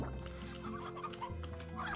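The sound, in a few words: chickens clucking in Slime Rancher video game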